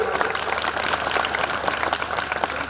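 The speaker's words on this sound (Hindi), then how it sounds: "उनके जोरदार ताली।" An audience at a school award ceremony applauds a teacher as he arrives. The clapping is a steady, dense patter from many hands that holds at an even level throughout, with no voices over it.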